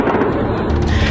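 Dense, continuous cracking and booming of rapid gunfire fired at residential areas in southern Lebanon, loud and sustained across the whole moment with no pauses or voices.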